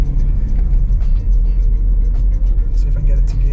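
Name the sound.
car accelerating while driving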